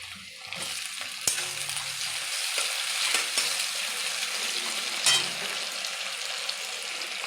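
Chopped tomato goes into hot oil with browned onions and is stirred. A busy close sizzle crackles, and a spoon scrapes and clatters against the pan at intervals.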